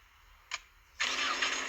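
Toyota Supra engine starting in the Car Simulator 2 game: a short starter click, then the engine catches and settles into a steady loud hum, with no talking.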